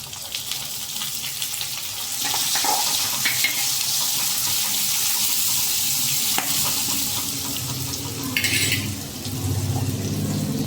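Chopped onions sizzle and crackle steadily in a hot pan over low gas, a continuous frying hiss with occasional sharper pops and a brief clatter.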